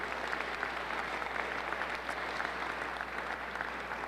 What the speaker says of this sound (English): let's give them a big round of applause if we can